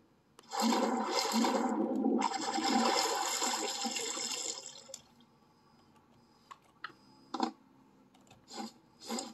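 Water gushes and floods in through a ship's ports in the building and sailing game Stormworks, a loud rushing pour for several seconds that cuts off, followed by scattered drips and small splashes.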